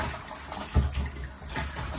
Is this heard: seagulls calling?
no